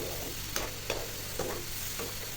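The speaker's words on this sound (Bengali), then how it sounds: "এখন এটা ভালো করে কষিয়ে নেব।" Coral fish curry masala with a little added water is stirred and sautéed in a pan, with about four distinct spoon scrapes cutting through a continuous close sizzle, and no voices.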